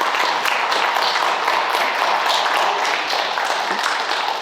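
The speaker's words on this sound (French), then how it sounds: "Donc moi, je vous applaudis du fond du cœur." Applause from a crowd at a Paris magazine launch event, a loud, steady, dense wash of clapping hands filling the whole stretch without a break.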